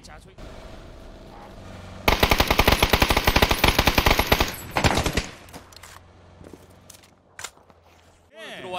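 Rapid automatic gunfire from a PUBG esports championship match: a loud, dense burst of shots lasts about three seconds, then fades into scattered, fainter game sounds, with commentators talking throughout.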